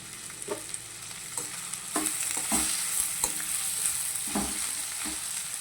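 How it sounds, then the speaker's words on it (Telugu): Sliced onions with coarse salt fry in a pan for green peas curry, a soft continuous sizzle with occasional spoon stirs and light scrapes, close and moderately quiet. "ఇందులో కొంచెం కళ్ళుప్పు వేసుకుంటున్నాను త్వరగా ఏగిపోతాయి ఉల్లిపాయలు"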